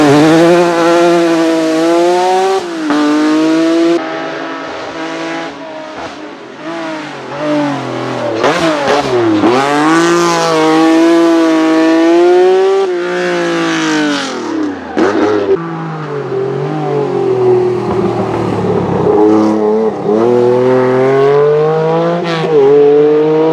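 A Lancia Stratos Group B rally car engine revs hard and continuously, rising and falling in pitch through gear changes as it passes close and loud, with no talking.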